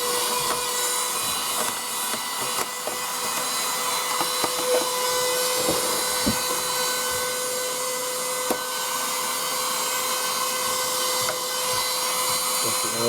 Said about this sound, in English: I think I'll do a little bit of vacuuming as I go.